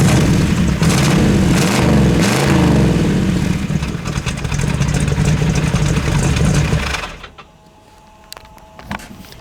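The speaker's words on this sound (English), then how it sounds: "Got a nice 427 choppy idle" A 1969 Camaro SS with a 427 V8 and stock manifolds idling close to the exhaust, a loud, lumpy, choppy rumble with uneven pulses that suddenly cuts away to near quiet and a few faint clicks.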